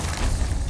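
Confringo fire spell blasting in Hogwarts Legacy: a short, close burst of noisy rumble with heavy low thud, under a second long and without speech.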